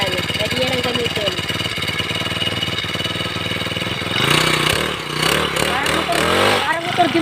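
A small grass cutter motor runs steadily, then revs louder and rougher with a rising and falling whine, while a person talks over it.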